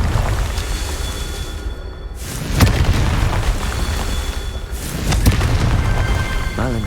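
Confringo fire spell bursts in Hogwarts Legacy, with a couple of sharp booming explosions among dense game effects and background rumble.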